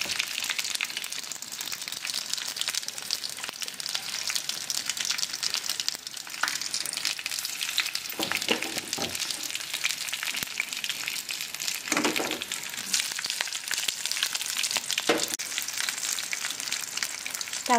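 Garlic, dried chillies and tempering seeds fry in hot oil with a steady, dense sizzle, broken by a few louder crackling bursts partway through.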